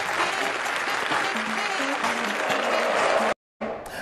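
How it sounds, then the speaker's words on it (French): A talk-show studio audience claps for an arriving guest in a dense, steady round of applause that cuts off abruptly near the end. "Un tonnerre d'applaudissements, s'il vous plaît, pour Herman Amissi de la RDC."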